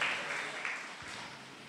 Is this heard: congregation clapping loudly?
yes